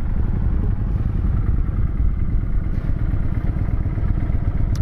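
A Kawasaki Vulcan 900 Classic fitted with a Lehman trike kit idles steadily and close by, its engine producing a continuous low, even rumble with light mechanical clatter and no talking.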